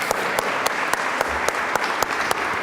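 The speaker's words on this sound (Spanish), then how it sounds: "aplauso. Muchas gracias." An audience applauds panelists and a moderator at the close of a policy roundtable, steady dense clapping with regular sharper peaks holding an even level throughout, no talk over it.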